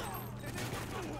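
Rapid bursts of automatic gunfire from a Call of Duty: Ghosts campaign firefight, a dense continuous rattle filling the short moment without any voice over it.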